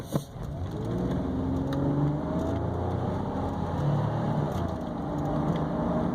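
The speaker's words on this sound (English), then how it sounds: "I'm going to apply the accelerator, so I'll let you listen to it run" Engine of a 1999 GMC Safari high-top conversion van revving up as it accelerates along the road to near 65 mph, a steady rising drone with road rumble underneath, heard from inside the vehicle.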